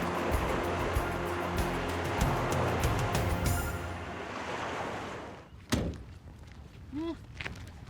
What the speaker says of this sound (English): monster waves